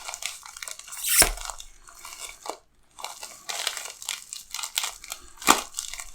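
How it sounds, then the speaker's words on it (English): A package of silver coins, 2020 Mexican Silver Libertads, being cut open and torn, giving irregular crinkling and crunching bursts of plastic packaging with a few sharper snips, close and moderately loud with brief pauses. "Let me go ahead and cut this open."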